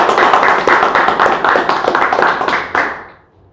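An audience at a Hindi poetry recitation claps in quick, fairly even rhythm, a loud close burst of hands that carries for about three seconds before tapering and dying away at the end.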